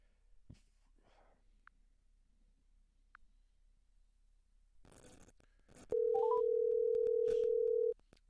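A telephone dial tone sounds while a call is being placed: a short rising series of tones followed by a steady, loud, unbroken tone lasting about two seconds, after quiet handling noise.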